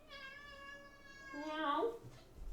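A cat gives one drawn-out, falling meow followed by a shorter, strained call indoors. It sounds close and moderately loud against a quiet background.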